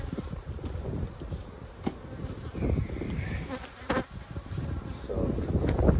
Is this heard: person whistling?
no